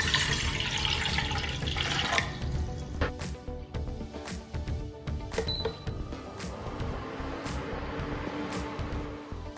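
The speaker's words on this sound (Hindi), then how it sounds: "एक बर्तन में 1 गिलास पानी लेंगे" Water poured from a glass into a cooking pot for a spiced kadha, a splashing pour for about two seconds followed by scattered clinks and light knocks of utensils nearby.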